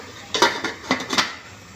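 A metal cooking pot clanks and rattles a few times, nearby and fairly loud, as it is set on the stove to boil pork liempo, with short sharp knocks of pot and lid and no talking.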